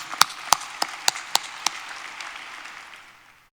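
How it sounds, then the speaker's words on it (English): A handful of sharp, separate claps ring out at a high school graduation ceremony, about seven distinct hits in slow rhythm before the sound fades into a trailing wash and silence. "Let's give your board members a large round of applause."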